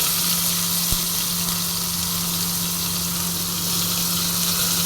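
Chopped onions fry in hot oil tempered with whole spices, giving a steady, close hiss and crackle that holds at an even level throughout without any talking.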